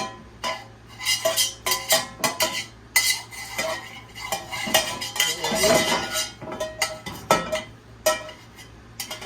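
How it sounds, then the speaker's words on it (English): A cake pan is buttered, with repeated scraping and clinking strokes of a utensil against the metal pan, close and irregular. "Butter my pan, gonna butter my pan."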